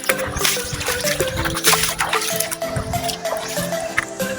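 Water drips and splashes loudly and up close during a wet outing on Siargao island. The dribbling and trickling runs continuously through the whole stretch, with no speech over it.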